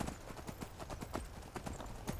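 Horse hooves clip-clop in a steady, even rhythm in Skyrim, the game's riding sounds loud and close, with no voices over them.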